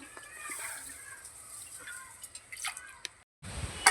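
Liquid dripping and trickling as it is strained into a clay pot while cooking horse gram for a Kerala dish, a steady wet patter with soft squishy bursts, close by, ending in a brief silence and a thump.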